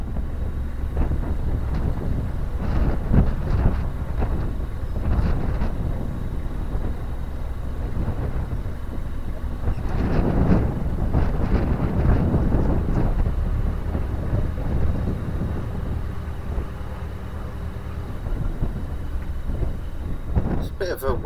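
Steady wind buffets the microphone with a low rumbling roar beside a narrowboat on a canal, gusting stronger in the middle, with no talking.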